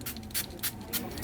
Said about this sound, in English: now what we're going to do is just going to spray these roots really good